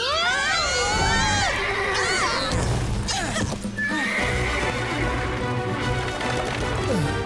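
A horse whinnies loudly up close, followed by clip-clopping hooves and excited shouting in the background.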